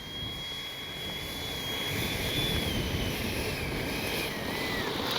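A Freewing 80mm JL-8 radio-controlled jet flies past, its ducted-fan whine sweeping in pitch as the roar builds and holds, heard alone outdoors.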